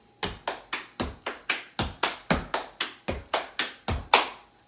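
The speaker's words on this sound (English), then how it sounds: "Stomp, clap, splash, stomp, clap, splash, stomp" Fifteen sharp percussive hits in a steady, even rhythm from a stepping routine of stomps and claps, crisp and close with no talking.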